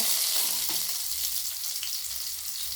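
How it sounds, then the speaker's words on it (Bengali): Chopped medium onion, one dried red chili and two bay leaves fry in hot oil for chicken pishpash, giving a loud, continuous sizzle close up with faint stirring. "এই তেলের মধ্যেই আমি দিয়ে দেবো একটা মিডিয়াম সাইজের পেঁয়াজ কুচি, একটা শুকনো লঙ্কা, 2টো তেজপাতা"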